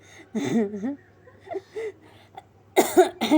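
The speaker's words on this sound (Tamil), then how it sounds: "எனக்கு இருமுது போங்க இருமுது" A few throaty coughs from one person nearby, the first drawn out and voiced, then a couple of harsher bursts at the end.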